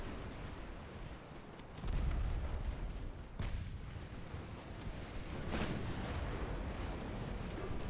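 Battleship secondary guns in a naval combat game fire at cruisers, deep booming shots and rumbling blasts repeating irregularly over a constant low roar of engine and sea.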